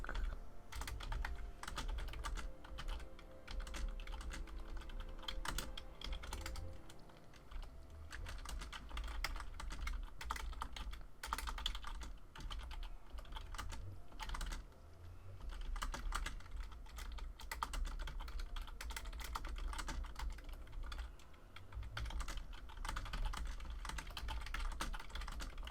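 Rapid typing on a computer keyboard during a Minecraft session, a steady stream of close key clicks and clatter, with a faint low hum underneath and no talking.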